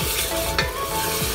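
Mutton qeema frying with whole garam masala in a pan over high flame, giving a steady, loud sizzle throughout with faint stirring scrapes and no voices.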